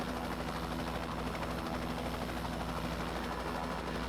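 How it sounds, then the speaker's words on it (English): A Bell 206B3 helicopter engine in X-Plane 12 drones steadily with a rapid rotor chop, loud and unbroken throughout, with no voices. "flying helicopter in third-person view is really a bad idea"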